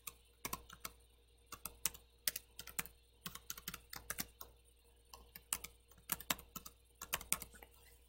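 Quiet, close computer keyboard typing of an email address, with quick irregular key clicks in bursts and short pauses.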